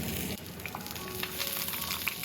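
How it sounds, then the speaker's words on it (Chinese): Pork knuckle frying in hot cooking oil in an iron wok, a continuous close sizzle with scattered small pops and crackles, no voices. "铁锅烧热后，加入食用油，将肘子放入锅内，"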